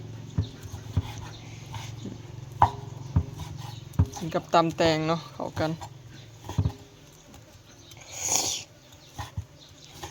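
A dog howls outdoors in a long, wavering, rising and falling cry, mixed with scattered clatter and someone talking during lunch preparation.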